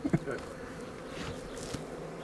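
Honey bees buzzing close by at a balcony beehive in a busy, continuous hum, with a couple of soft knocks near the start.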